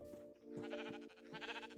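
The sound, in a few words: sheep bleating in a Minecraft modpack video game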